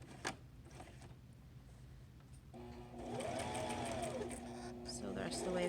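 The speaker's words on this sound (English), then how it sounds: "sew the rest of the way to the end, back stitch to lock it in" A sewing machine stitches along a zipper pouch, running steadily for several seconds and finishing with a back stitch to lock the seam, its motor hum and rapid needle clatter close by with a voice speaking over it.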